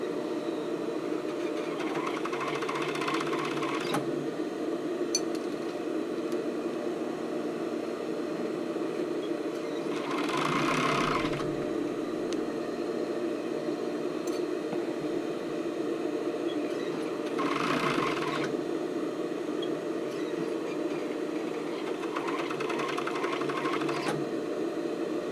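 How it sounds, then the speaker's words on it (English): Sewing machine stitching rolled-edge elastic onto a sports bra, a steady mechanical whir running throughout with several louder bursts as the stitching speeds up, close and clear with no talk. "Don't sew over your pins."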